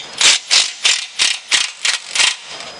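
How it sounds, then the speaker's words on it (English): A 3/4 socket ratchet loosens bolts on a vacuum drive assembly, seven evenly spaced bursts of clicking pawl, close and crisp. "Take a 3/4 socket. You're going to want to loosen the back two bolts just a little bit."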